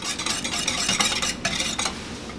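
A spoon stirs orange cranberry relish into a ham glaze in a pot, making close, continuous wet scraping and swishing with a soft sizzle beneath it and repeated strokes.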